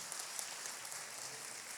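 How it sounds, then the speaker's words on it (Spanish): Steady clapping from a church congregation honoring the men, a dense even patter at moderate level with no voices over it. "Un aplauso a estos hombres"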